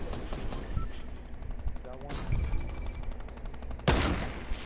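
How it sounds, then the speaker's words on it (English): Minigun fire in Fortnite roars in dense rapid bursts through most of the stretch, loud and close, with a sharp heavy blast near the end, while players shout over the gunfire. "You trying to shoot at me with a fucking minigun"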